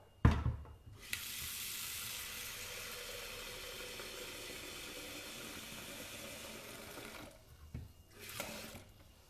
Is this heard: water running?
yes